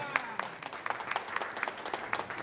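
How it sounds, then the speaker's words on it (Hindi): Scattered applause from a gathered audience at a live event, with sparse, faint hand claps that come in irregular bursts and sound somewhat distant. "एक बार जोरदार ताली, एक बार फिर से"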